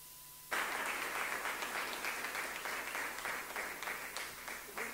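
Sustained applause from a conference audience swells in abruptly after a moment of near silence and keeps going as a dense, loud wash of clapping with no voices on top.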